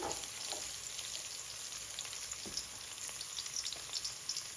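Curry powder frying in oil in a pan and being stirred, a steady close sizzle with scattered scraping stir sounds and no talking.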